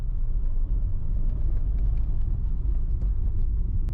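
A 2022 Tata Altroz rolls over a paver-block road, giving a steady low rumble of tyres and engine from inside the cabin, continuous and fairly loud with no talking.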